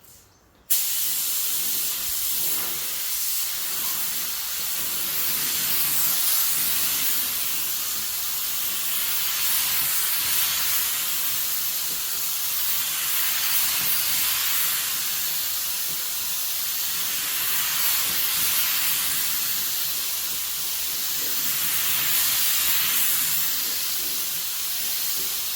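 A spray gun at 25 psi lays dark purple pearl paint over Rust-Oleum black with a steady, loud, close hiss that runs unbroken for about twenty-five seconds after a brief click at the start.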